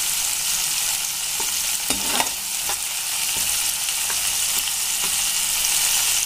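Finely chopped tomato fries in a pan with a steady hiss and crackle, while a spoon clicks and scrapes against the pan as it stirs. No voices are heard.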